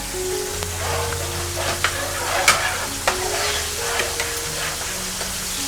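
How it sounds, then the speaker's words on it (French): Chili in oil sizzles and fries steadily in a pan while being stirred, with a continuous crackling hiss and occasional sharper spatters and utensil clicks, close and moderately loud, without talking. "mettre de l'huile dans notre piment"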